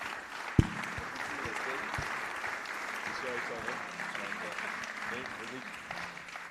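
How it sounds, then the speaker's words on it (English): Audience applause at a sustainable-cities conference in Antwerp, moderate clapping from a hall crowd with a few sharp louder claps, continuing steadily before tapering off. "Please give them a warm applause."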